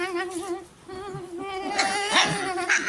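A Labrador nearby gives drawn-out whining, whimpering cries, rising and wavering in a few close, high-pitched bursts.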